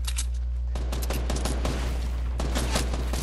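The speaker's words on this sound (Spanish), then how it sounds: "Me están disparando todo a mí" Video game gunfire in Black Ops, rapid automatic bursts of shots in quick succession over a constant low game hum, loud and close with a brief pause between volleys.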